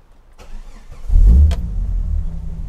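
A Jeep Grand Cherokee 4.0 Limited V6 starts up: a short starter crank, then the engine catches with a deep low rumble and settles into a steady idle, close and alone.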